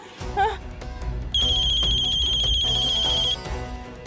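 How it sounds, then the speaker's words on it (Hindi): A telephone rings in a steady electronic trill for about two seconds in a domestic drama scene, heard over background sound and voices. "छोटो माँ का फोन।"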